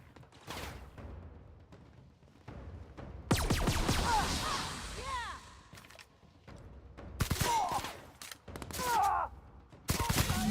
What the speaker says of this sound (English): Based on the amount of gunfire I heard